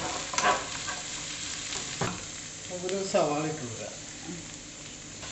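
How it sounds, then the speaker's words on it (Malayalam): Ginger, garlic and onion sautéing for a Kerala-style Christmas beef curry, with a spatula scraping and stirring through the pan in a few distinct strokes over a low sizzle, close and fairly quiet, with a faint voice under it. "ഇഞ്ചിയുടെയും വെളുത്തുള്ളിയുടെയൊക്കെ പച്ചമണം മാറുന്നവരെ നന്നായിട്ടൊന്ന് വഴറ്റി കൊടുക്കാം"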